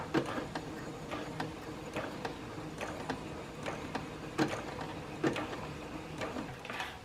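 A sewing machine runs steadily at close range in a continuous mechanical whir, with a rhythmic ticking clatter repeating throughout and no voices.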